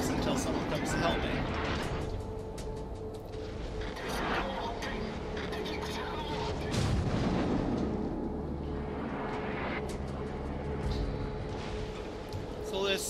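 Naval guns from a Kutuzov cruiser boom through a World of Warships battle against a battleship, low rumbling blasts and engine drone running continuously beneath a commentator's voice.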